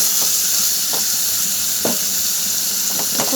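Spices sauté in hot oil in a pan, a loud, even sizzling hiss with a few soft stirring scrapes and spatters breaking through, no voices.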